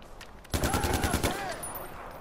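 Sniper gunfire in the video game Far Cry 4: a sudden loud burst of rapid shots with ringing tails, followed by a sustained noisy battle ambience.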